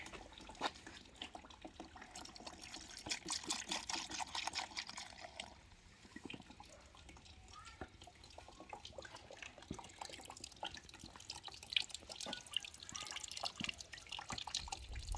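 Coolant trickles and drips steadily while a Yamaha MT-09 motorcycle cooling system is flushed, a continuous close watery flow with scattered drips and no talking.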